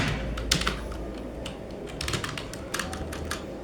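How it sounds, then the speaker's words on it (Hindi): Computer keyboard typing in short irregular bursts of clicky keystrokes, close and moderately loud, with brief pauses between runs and no talking. "मैं इतनी गलतियाँ क्यों कर रहा हूँ टाइप करते हुए"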